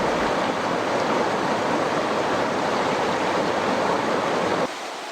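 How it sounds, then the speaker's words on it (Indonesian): Loud, constant roar of the Ceurace Angin waterfall in Tangse, Pidie, Indonesia, crashing nearby, a dense rushing wash that drops off abruptly at the end. "Hawa sejuk sangat terasa dari hempasan air terjun Terace Angin saat menerpa wajah."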